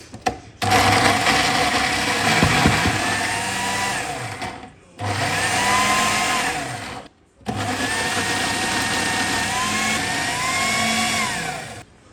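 A blender grinds fried ingredients into a paste for Pakistani-style chicken changezi, loud whirring motor bursts in three runs separated by short pauses, close up.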